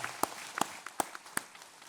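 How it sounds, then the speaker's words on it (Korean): A few sparse handclaps from a church congregation during a Sunday worship service at Daegu Hana Church, spaced in a slow, uneven rhythm, soft and somewhat distant with no voices. "박수를 하나님께 드리겠습니다"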